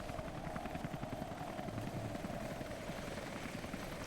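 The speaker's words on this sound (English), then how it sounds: "last chopper outbound" Helicopter in the video game Rise of the Tomb Raider, a steady, close rotor thrum with continuous rhythmic chopping over a droning engine tone, heard alone throughout.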